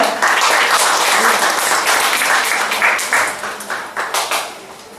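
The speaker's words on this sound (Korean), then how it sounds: "박수로 모십니다" A church audience at an anniversary revival service applauds to welcome the pastor, broad sustained clapping that thins into a few scattered, separate claps near the end.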